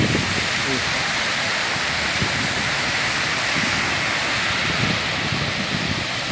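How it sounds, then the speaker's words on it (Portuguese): Floodwater rushes down a street after a brief heavy downpour in Aparecida de Goiânia, a loud, constant broadband roar of flowing water close by, with someone talking over it. "acabou de cair um pé de água aqui. Olha, tá parecendo um rio"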